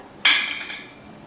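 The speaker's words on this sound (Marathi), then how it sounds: "आता आपण यामध्ये कॉईन्स टाकूया" Coins tossed into an empty metal handi strike it with one sharp metallic clatter, then ring and jingle as they settle, close and fairly loud with no voices.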